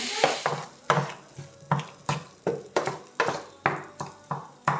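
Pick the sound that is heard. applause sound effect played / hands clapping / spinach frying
spinach frying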